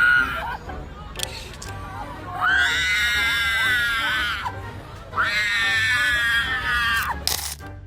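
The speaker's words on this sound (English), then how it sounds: "Protesters kneel and scream as arrests roll in." Protesters shriek and scream during arrests at a street protest in Chicago. Two long, loud, piercing screams rise over a crowd murmur, with other voices and shouts mixed in between.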